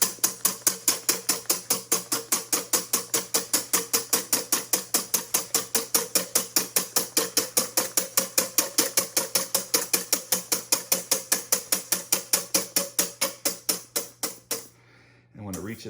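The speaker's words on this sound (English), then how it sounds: "Just let the whisk do all the work." A hand whisk beats steadily against a bowl for a plum cinnamon tart, about four rapid rhythmic clicks per second, close and even, stopping just before the end.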